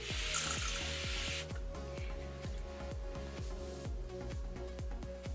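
A quick burst of fine setting-spray mist from a spray bottle, a soft airy hiss lasting about a second, over a steady low hum.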